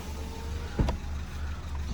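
A 2014 Ford Fiesta Zetec with almost 100,000 miles idling quietly, a low steady engine hum with one brief louder thump partway through, no talk.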